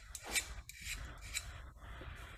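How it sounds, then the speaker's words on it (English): A steel burnisher strokes along the edge of a cabinet scraper, a few quiet, short rasping rubs in quick succession, heard alone and close. "I want to put a burr on by coming across the bottom like this to get a burr that sits right up here on top"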